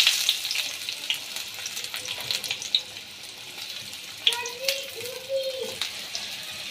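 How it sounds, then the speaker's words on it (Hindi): Chopped onions fry in hot mustard oil in a kadai with a soft, uneven crackle. Brief clinks and a short whistling tone come in near the end. "प्याज को हल्का सा फ्राई कर देंगे।"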